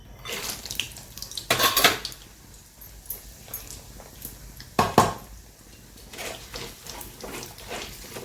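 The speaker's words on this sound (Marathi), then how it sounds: "आहा आपण आता हे खोबरं घालत आहोत" Grated coconut fries in a pan of oil while chivda is made, giving a steady sizzle with a couple of louder metallic scrapes and clinks of a utensil against the pan.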